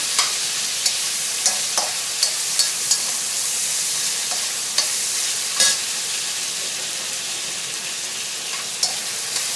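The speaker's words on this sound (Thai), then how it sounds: "หั่นไว้เรียบร้อยแล้วก็จะผัดเลยให้จุกก่อนนะคะ" Pork sizzles and hisses steadily in a hot pan as it is stir-fried with ginger and chili, with scattered scraping clicks from stirring throughout.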